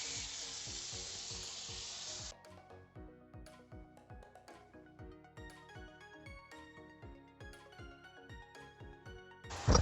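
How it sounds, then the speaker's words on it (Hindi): Chicken frying in a pan gives a loud, steady hiss of sizzling for the first two seconds, then drops away beneath rhythmic background music. "सारी चिकन को हम फ्राई कर लेंगे।"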